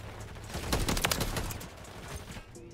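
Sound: gunfire in Call of Duty MW3 video game

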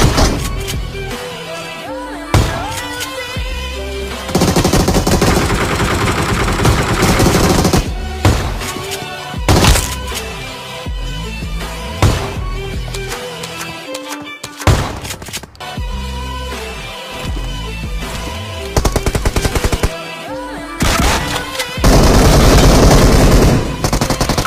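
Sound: shotgun gunfire in PUBG Mobile video game

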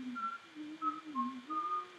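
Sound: whistle in a song

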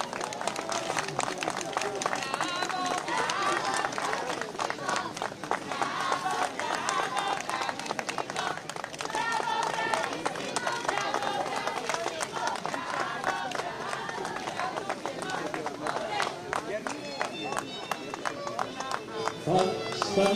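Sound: audience applause

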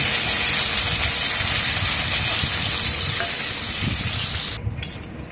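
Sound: frying cashews and raisins in white oil

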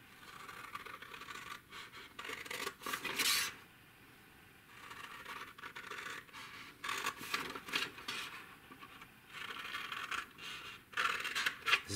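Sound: cutting lines in paper up to the first fold

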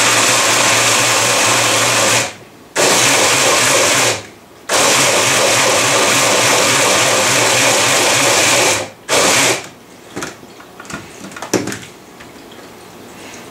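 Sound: immersion blender pureeing canned chipotle in adobo sauce

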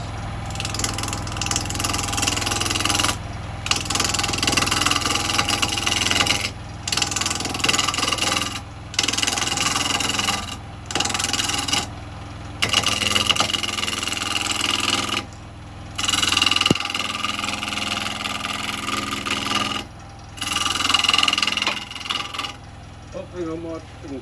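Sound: wood lathe rough turning wet wood with carbide tool

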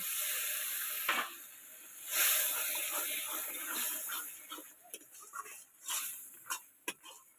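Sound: water added to frying masala, sizzling

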